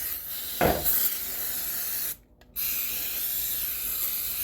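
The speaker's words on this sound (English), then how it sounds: "Then spray it to get some of the grime off." A spray bottle of cleaner hisses in one short burst onto an old bench vice being restored for grime removal, followed by steady background hiss and a brief near-silent gap.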